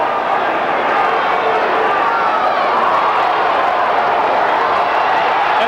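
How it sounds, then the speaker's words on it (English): A boxing crowd at the Eagles Club in Milwaukee, Wisconsin roars steadily on its feet during round four, a dense, sustained wash of cheering and clapping with no breaks. "And the crowd now on its feet"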